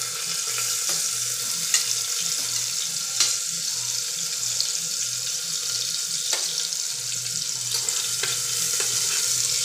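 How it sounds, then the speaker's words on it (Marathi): Onion and garlic with cumin sauté in hot oil inside a pressure cooker, giving a steady broadband sizzle with soft scraping stirs and a few sharp clinks of a spoon against the metal pot. "कांदा लसूण व्यवस्थित परतवण्यासाठी कुकरमध्ये टाकलेला आहे"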